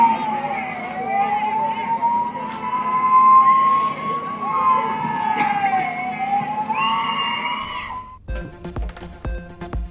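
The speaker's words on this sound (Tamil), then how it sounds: "ஆம்புலன்ஸ் வருது, வழி விடுங்கப்பா" An ambulance siren wails, rising and falling steadily over traffic noise, loud and fairly near, then cuts off abruptly into clattering background sounds.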